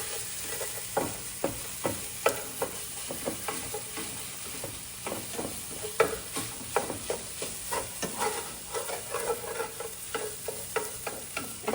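A spatula repeatedly scrapes and breaks up tofu in a hot pan, sharp rhythmic scraping strokes over a soft, steady sizzle, close and fairly quiet with no talking.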